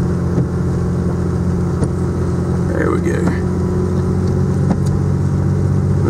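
A Peterbilt log truck's engine rumbles steadily up close in pouring rain, holding a low, even drone with brief clanks over it, while someone speaks a few words.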